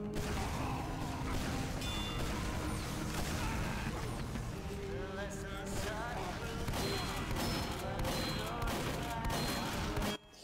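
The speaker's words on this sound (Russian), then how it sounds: "Ну, Дранг, ты мог бы в него выстрелить." Rapid gunfire and explosions from a team-based online shooter game, a dense continuous barrage of shots, crashes and whooshes filling the whole stretch, with players' voices talking underneath.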